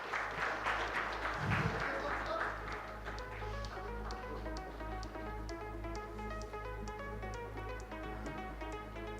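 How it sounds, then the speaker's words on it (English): Applause from a seated audience at an AI summit in India after a memento presentation: a fairly quiet, distant patter of many hands that thins out into scattered individual claps. "Can we have a round of applause?"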